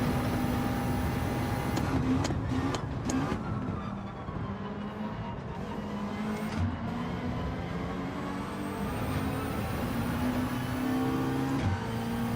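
Ferrari race car engine in the Gran Turismo 7 video game, a steady sustained drone holding a constant pitch throughout at a fairly loud level, with no talk over it.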